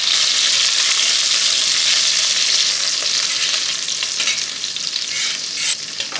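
Chunks of beef for a Hungarian goulash fry hard in hot tallow in a pot, giving a loud, dense, steady sizzle with scraping stirring and spatter, and no voices.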